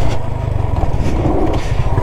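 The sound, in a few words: motocross motorcycle rear tyre skidding on track side wall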